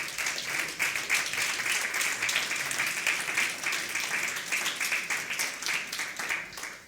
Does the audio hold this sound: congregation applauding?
yes